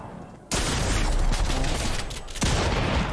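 Loud, rapid bursts of automatic gunfire in a video game, from a C1 rifle, with a long burst followed by a second volley, close and harsh.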